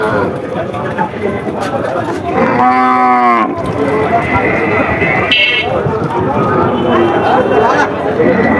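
A cow moos loudly nearby, followed by a second shorter moo, amid the busy chatter of a crowded outdoor livestock market in Jhenaidah, Bangladesh, where cows and calves are being bought and sold.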